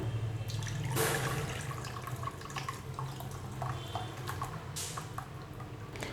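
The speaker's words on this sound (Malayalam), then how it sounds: "ഇനി ഒരു പാത്രത്തിലോട്ട് ഒഴിക്കാം." Hot Kerala-style moru curry, a coconut and buttermilk gravy, is poured into a vessel, producing a soft liquid trickle with brief splashes and a clink near the start and again near the end.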